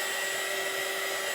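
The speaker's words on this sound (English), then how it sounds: "I got a new heat gun. It's a little one." A small heat gun blows over a wet T-shirt, a steady close whirring hiss of air without a break.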